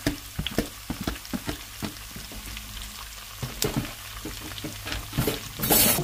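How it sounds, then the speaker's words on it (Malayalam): Onion, green chili, garlic and curry leaves sauté in oil for a turkey dish, with a soft continuous sizzle broken by sharp clinks and scrapes of stirring against the pan, close and fairly quiet. "അപ്പൊ ഇനി നമുക്ക് അതിലോട്ട് സവാളയും പച്ചമുളകും വെളുത്തുള്ളിയും കറിവേപ്പില എല്ലാം കൂടെ അങ്ങോട്ട് ഇട്ട് കൊടുക്കാം"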